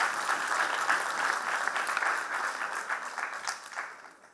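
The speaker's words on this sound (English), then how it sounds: "A round of applause for the organizers for this evening." An audience gives a round of applause for the organizers of an evening cultural event, sustained clapping that swells early and fades away at the end.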